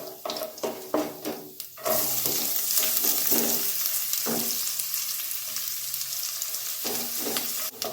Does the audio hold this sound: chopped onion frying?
yes